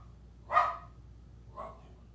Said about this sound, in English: we've hit the primetime Prue barking hours